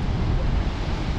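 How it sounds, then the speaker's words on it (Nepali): Ocean waves surging at Kiama Blowhole, a loud, close, continuous roar of churning surf mixed with wind buffeting the microphone. "हेर्नुहोस् छाल है ओसनको छाल पुरै त्यहाँनिर"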